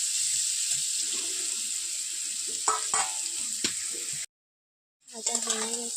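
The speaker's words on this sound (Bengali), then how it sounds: "এবার হলুদ গুঁড়ো দিয়ে দেবো। ভালো করে নেড়ে চেড়ে নেব।" Turmeric-coated food sizzles steadily in a pan while being stirred, with scraping clatters over the frying hiss, a brief silent gap, then stirring resumes.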